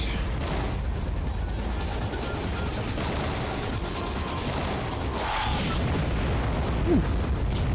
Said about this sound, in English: That was torpedo point blank there.